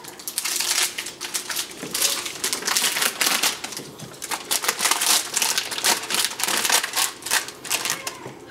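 Knife cutting through a block of cheese that was frozen for 35-40 minutes, giving dense crunchy scraping and crackling strokes repeated steadily at close range, with no talking.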